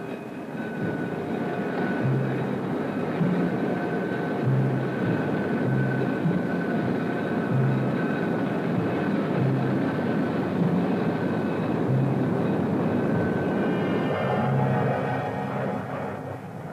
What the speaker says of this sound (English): Tactical Air Command quickly brings its aircraft to an advanced alert.